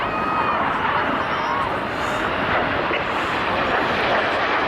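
Red Arrows jets fly past during a barrel-roll display at the International Ayr Show, a loud, steady roar that fills the whole stretch without letting up. A faint hubbub of voices sits beneath it.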